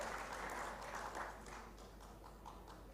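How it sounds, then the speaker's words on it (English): Applause at a youth conclave and award ceremony, a crowd clapping in a broad wash that thins out into scattered individual claps, fairly faint over a steady low electrical hum. "A huge round of applause for everyone who made Youth for Earth possible."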